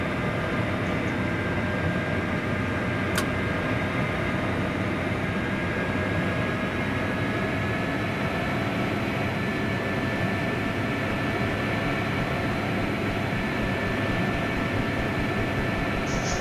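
A rotor aircraft in the construction sim Machine World 2 spins up, with a loud, steady mechanical drone carrying sustained tonal whine lines that hold throughout without a break.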